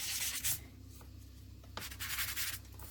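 Soft, gritty scraping in short back-and-forth strokes, quiet and close, like fine sandpaper rubbed over a small polymer clay pendant.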